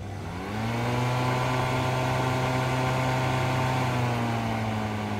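A Greenworks 40V battery-powered 16-inch lawn mower spins up and runs at no load, giving a steady, loud electric motor whine with a constant pitched hum throughout.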